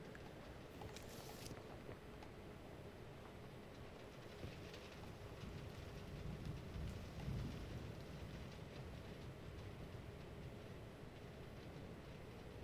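Steady rain pours over the Shankhalok region in Indiana Jones and the Great Circle, a dense, even wash of noise that holds at a fairly faint level throughout, with no distinct thunderclap standing out.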